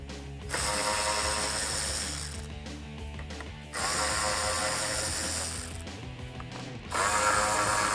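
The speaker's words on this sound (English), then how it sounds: "I'm going to use a 7mm socket to remove the 4 factory screws from the diffuser" A ratchet with a 7mm socket backs out factory screws from the rear diffuser of a 2018–2021 Mustang GT: close, loud bursts of rapid clicking, three long runs separated by short pauses, with no talking.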